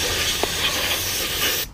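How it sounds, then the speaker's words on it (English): Compressed air sprays dust out of the inside of a desktop computer as one continuous, loud, close hiss that cuts off abruptly at the end. "you're just gonna gently very, very gently blow out the dust that's lingering inside of there."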